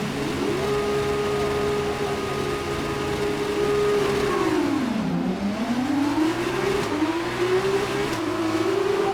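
Formula 1 race cars in the F1 2019 game rev hard at the race start, the engine pitch climbing, dipping on a gear change and rising again in a steady, close whine.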